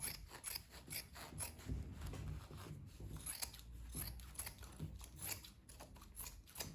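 Scissors cutting the corners of fabric, a series of close, quiet snipping and clicking blade sounds in an uneven rhythm.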